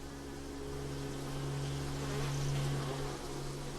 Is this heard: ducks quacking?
no